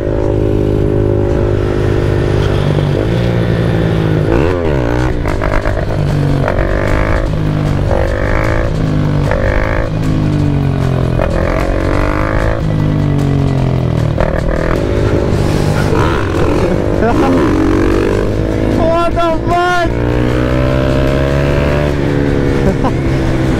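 Mini motorcycle being ridden and revved, a loud continuous buzzing engine with repeated rising and falling revs through the whole stretch, close to the rider, with wind noise.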